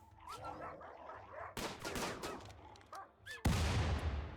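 Gunfire in the colony-management game Rimworld: a few sharp broadband bursts sound, with the loudest and densest volley arriving near the end, alone with no talk.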